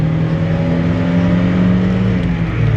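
A car engine revs hard to about 5,700 rpm and holds at a high, steady pitch, loud and close, with no talking.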